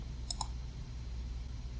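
Two quick soft mouse clicks on a computer's full screen button, close and faint over a low steady hum.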